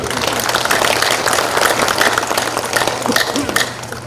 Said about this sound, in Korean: 여러분 박수 한번 보내주십시오